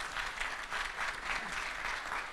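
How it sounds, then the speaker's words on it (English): Steady applause from an audience at a ministry interactive session, even and continuous, with no voices over it. "So maybe we should acknowledge this with a round of applause."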